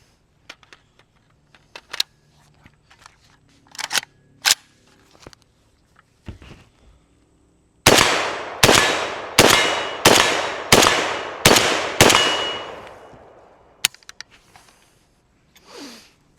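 A Meridian Defense Volk-S 7.62x39 rifle fires on gas setting 2: seven loud, sharp shots at a slow, even pace, each with a ringing decay, preceded and followed by faint handling clicks.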